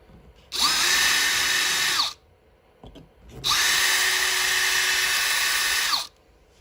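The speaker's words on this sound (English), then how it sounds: "I'm going to drill those out." A power drill whines loudly in two long sustained bursts, grinding steadily through the metal rivets of a 1/64 scale diecast Kenworth T680 model truck, with a brief pause and a small clatter between them.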